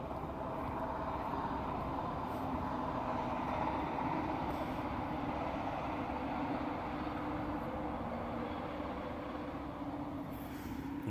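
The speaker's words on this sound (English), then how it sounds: "That train has a few square wheels on it." A train with a few flat-spotted wheels rumbles past continuously, a steady loud roar with faint rhythmic clatter over the full length and no voices.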